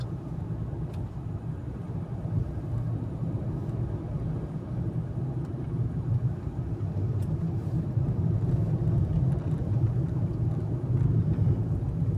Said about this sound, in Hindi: ये आगे वही जा रही है, कोटरी वगैरह की तरफ जा रही है ट्रैफिक ये